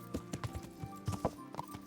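Horse hooves clip-clopping in the medieval game Kingdom Come: Deliverance, a run of distinct, fairly close hoof strikes in an uneven walking rhythm with no voices over them.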